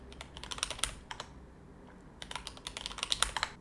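A passphrase is typed on a computer keyboard during an Arch Linux install with encryption, giving close, rapid clusters of key clicks with a short pause in the middle before the typing resumes.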